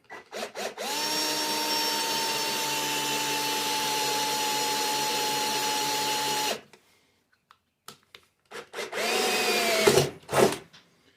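A power drill whines steadily for several seconds while drilling a pilot hole on a Bobcat zero-turn mower, then stops; after a pause, short clicks and another brief burst of drilling follow.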